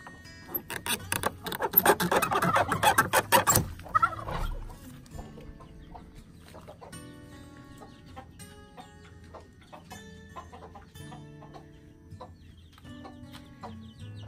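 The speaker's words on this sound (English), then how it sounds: "So we're gonna go over here to the chicken coop and see if we can show y'all the baby chicks real quick." A mother hen and her baby chicks in a backyard chicken coop: a loud burst of agitated clucking and squawking up close, then quieter scattered clucks and thin chick peeps continuing in the background.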